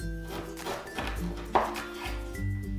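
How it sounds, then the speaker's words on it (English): A knife slices lengthwise through a firm pear on a board, giving a few soft cuts and one sharper thunk, close and quiet, with faint background hum and no speech. "Slice your pear lengthwise"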